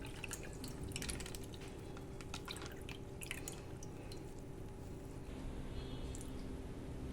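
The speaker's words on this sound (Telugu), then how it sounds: "సో ఇప్పుడు నేను మిల్క్ ప్యాకెట్ అయితే కట్ చేసేసి ఇందులో వేసేసుకుందాము." Raw, unheated milk pours from a cut plastic milk packet into a cooking vessel as a steady soft liquid rush with light dripping, continuous and close throughout.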